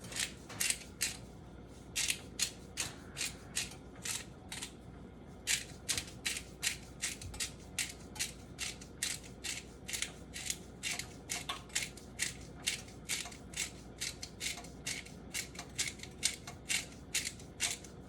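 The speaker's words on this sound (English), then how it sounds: "Not much comes out when I grind it" A hand grinder crunches pink Himalayan salt in quick repeated ratcheting bursts, close and faint, each twist giving a dry crackle in a steady rhythm with brief pauses.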